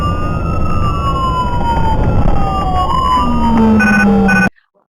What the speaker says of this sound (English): When we run lights and sirens, it isn't going to necessarily be fast.